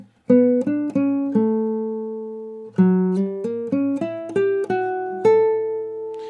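A guitar plays a short phrase of plucked chords in a relaxed, syncopated bossa nova rhythm, each chord ringing clearly, with no voices.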